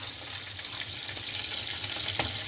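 Oil, heating for bulgur pilaf, sizzles and crackles steadily in a pan, a soft continuous hiss with small pops, close by and without voices.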